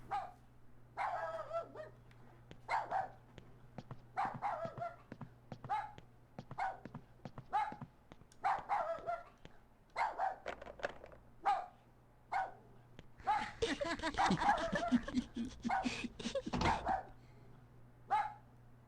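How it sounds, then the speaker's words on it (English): A dog barks repeatedly in a retro video game, sharp spaced barks in an irregular rhythm over a steady low hum, with a louder, denser burst of game noise near the end. "the dog's barking is just kind of"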